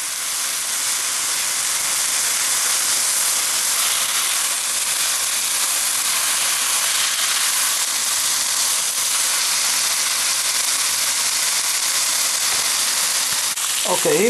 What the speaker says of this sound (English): the water condensation coming from the meat is boiling itself away.